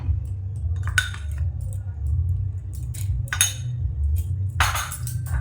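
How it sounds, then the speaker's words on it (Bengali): A spoon stirs milk with powdered milk in a pot while making curd: three separate bursts of metallic clinks and scrapes against the pot over a low steady hum, close and fairly quiet. "আস্তে আস্তে নাড়তে থাকলাম যাতে না ডেলা হয়ে যায়।"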